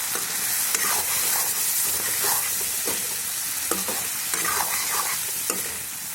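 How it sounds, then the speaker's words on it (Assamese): Meat cooking with red chili in a hot pan, no tomato, being stirred: a steady loud sizzle and frying hiss runs throughout, broken by repeated scraping stirs, with no talking. "এতিয়াতো অলপ লাৰি দিওঁ।"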